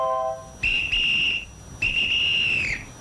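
A shrill electronic alarm beeps in two long high-pitched tones separated by a short gap, loud and alone.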